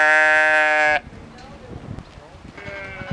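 A domestic sheep gives one loud, close bleat, then a quieter stretch of shuffling follows before a second, fainter bleat begins; a narrator speaks over the later part.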